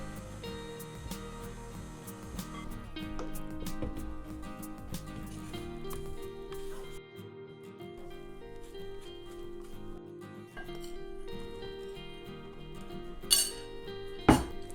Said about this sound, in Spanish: ahora vamos a ir agregando poco a poco nuestros polvos mágicos, que son los ingredientes secos, alternándolos con la leche